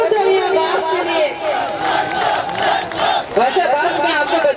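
A festival audience cheers and whoops loudly as a crowd, a dense, sustained roar of voices with shouts rising and falling throughout and no clear clapping standing out.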